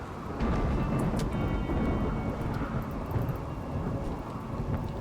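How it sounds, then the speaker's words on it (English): In the Rimworld video game, a lightning strike unleashes a loud, rolling crack of thunder over steady rain, rumbling on for several seconds close at hand with no talking. "was Durin just struck by lightning?"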